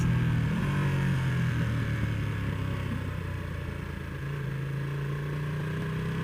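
A 2020 Ducati Panigale V2 motorcycle on the move gives off a steady, loud engine drone with a slight pitch change midway, under wind rush, and no voices.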